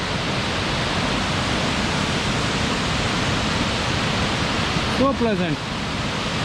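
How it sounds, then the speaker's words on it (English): A waterfall at Tallulah Gorge pours onto rocks in a steady, loud, broad rush that fills the whole stretch without a break. Someone speaks briefly near the end over it. "you hear the sound of the waterfalls"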